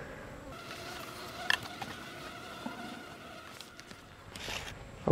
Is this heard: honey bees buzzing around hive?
yes